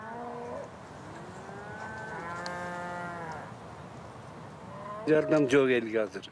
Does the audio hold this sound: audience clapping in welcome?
no